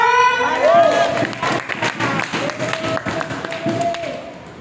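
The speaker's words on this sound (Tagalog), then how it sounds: "Maraming palakpak!" A church congregation at a prayer meeting vigil breaks into applause and cheering, with steady clapping under a raised voice and crowd noise at moderate volume.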